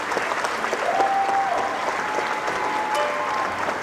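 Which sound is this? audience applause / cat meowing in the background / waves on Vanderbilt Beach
audience applause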